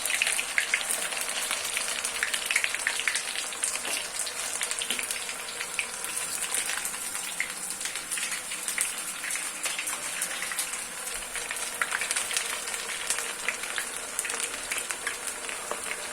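Frying in hot oil over a high flame for a Pakistani stuffed bitter gourd recipe, a dense, steady sizzle and crackle that carries on unbroken and fairly close, with no talking.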